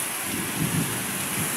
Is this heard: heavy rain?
yes